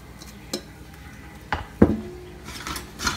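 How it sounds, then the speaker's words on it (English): Garlic is tossed in a hot pan while cooking lechon pork belly, with metal utensils clinking and scraping against the pan in a few sharp knocks, close and alone. "So itotoss muna natin yung ating bawang para lumabas yung aroma niya."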